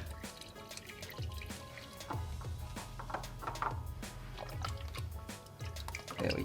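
Engine oil drips from a Subaru WRX as the oil filter is removed, with irregular close drips and splats over a low mechanical background, no talking.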